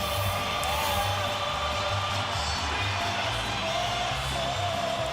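Crowd noise fills a boxing arena at the Manny Pacquiao vs Oscar De La Hoya fight, a broad continuous roar of many distant voices with steady cheering and no sharp peaks.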